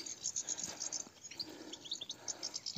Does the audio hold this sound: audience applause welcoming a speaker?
no